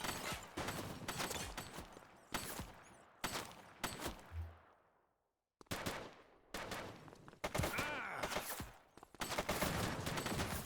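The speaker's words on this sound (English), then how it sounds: "Shots fired!" Gunshots ring out in a police shootout in a video game: clusters of sharp, loud, close shots fired in quick bursts, with one brief lull in the middle before the shooting resumes.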